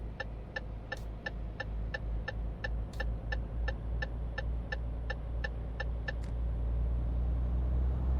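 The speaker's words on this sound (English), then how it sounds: "This engine is making not very nice noises right now. Maybe that's just what Renaults do" A Renault truck in Euro Truck Simulator 2 drones with a low, steady engine rumble while a regular ticking indicator clicks over it, the engine note swelling slightly toward the end with no talking.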